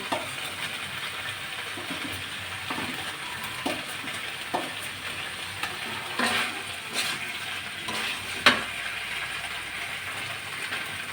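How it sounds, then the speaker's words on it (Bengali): Fried potatoes are stirred into vegetable stems frying in a pan, with a soft background sizzle and several distinct clacks and scrapes of the spoon. "ভেজে রাখা আলুগুলো ডাটার ভিতরে দিয়ে দিচ্ছে"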